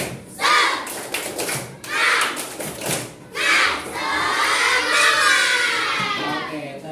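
Schoolchildren in a classroom clap a rhythmic spirit clap together in bursts, their young voices shouting along between the claps, loud and close.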